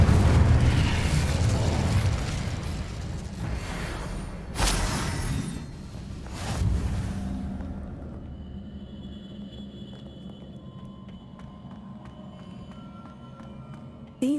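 Incendio fire spell cast in Hogwarts Legacy: a loud burst of whooshing fiery blasts and booms, a couple of sharp flares, then fading to quiet ambient hum with faint chimes.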